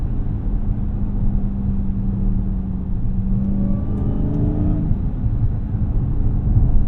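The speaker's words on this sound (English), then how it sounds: "Listen to that supercharger whine." A 2023 Dodge Charger SRT Hellcat accelerates with a steady, loud engine drone, and a rising supercharger whine climbs in pitch over several seconds, heard close from the cabin with no talking.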